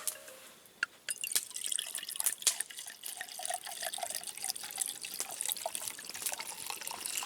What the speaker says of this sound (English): I guess I don't really need to pour half a pint of wine, but I pretty much just did